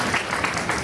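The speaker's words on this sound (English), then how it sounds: "clap for yourself if you know who you are" Dense, steady applause from a large audience of graduates at a health college commencement ceremony, continuous and fairly distant, with no talking over it.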